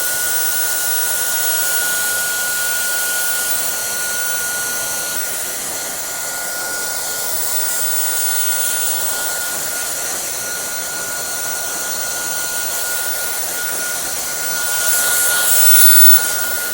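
Hair dryer blowing steadily on a client's crown during a textured crop haircut, a continuous close whirring roar that swells slightly near the end, with no talking.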